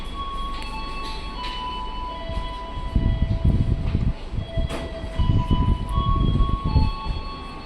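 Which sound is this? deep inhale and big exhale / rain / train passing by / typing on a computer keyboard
train passing by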